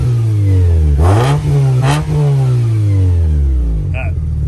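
A 2007 Hyundai Tiburon automatic fitted with only a header revs loudly nearby, two sharp throttle blips rising and falling over a rough idle, with voices talking briefly over it.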